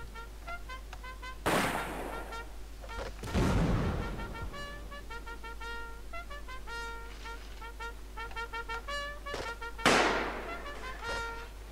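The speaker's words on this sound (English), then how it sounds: "Isaac, stop shooting, you're wasting your ammo" Gunfire in the Roblox game Blood & Iron: a few sharp shots and bursts at scattered moments, heard over a steady tonal musical background.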